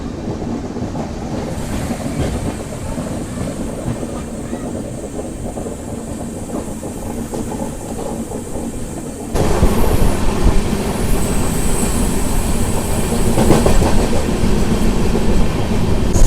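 The Telangana Express, Hyderabad to New Delhi, rolls along with a steady rumbling clatter of wheels on rails, growing louder and brighter midway as if a door opened, with faint squeals, no talk.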